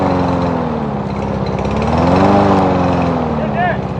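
A lawnmower engine runs steadily nearby, a loud buzzing drone that rises slightly in pitch midway, with someone talking over it.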